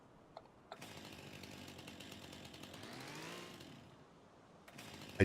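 A small chainsaw in Farming Simulator 25 revs up and runs, a buzzy whining drone that rises in pitch and then falls away, with a few clicks at the start and end and no talk.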